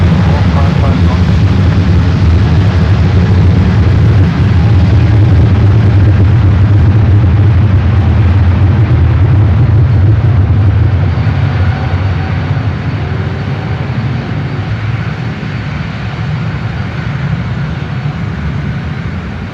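A Delta heavy jet taking off at San Francisco International Airport, a loud sustained low roar of engines that swells and then slowly eases as the aircraft departs.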